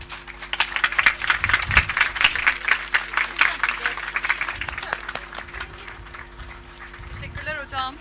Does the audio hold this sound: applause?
yes